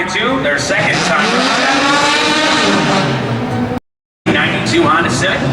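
Drag racing cars, including a 1992 Honda Civic, roar loudly down the dragstrip in a continuous engine blast, briefly cutting out before the loud roar resumes.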